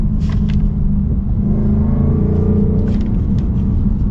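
A 2025 Ford Mustang RTR with an 800-horsepower manual drivetrain rumbles loudly as the throttle opens, its deep engine note rising steadily from inside the cabin, with no voices.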